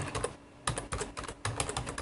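Fast, steady typing on a computer keyboard, with dense bursts of crisp key clicks and a brief pause before the clicking resumes. The keys sound close, and no one speaks.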